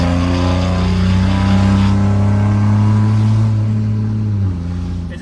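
A 4th gen Cummins diesel truck with a 2G turbo swap revving hard, a loud, sustained throaty engine roar holding high for several seconds before easing slightly near the end.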